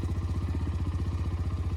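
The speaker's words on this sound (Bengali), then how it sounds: "বাইকের এক্সস্টের সাউন্ড" GPX Demon GR165RR motorcycle with a large, thick silencer idling close by, its exhaust giving a steady, deep, rapid thumping pulse throughout, loud and alone with no voices.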